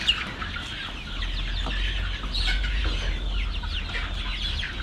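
Chickens cluck continuously on a farm, a busy flock of overlapping clucks and calls at close range with a steady low rumble underneath.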